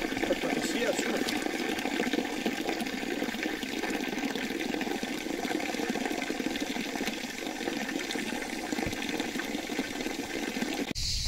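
Steady rushing water flows continuously from a village fountain near a waterfall in a plane-tree forest, a dense, close, unbroken splash.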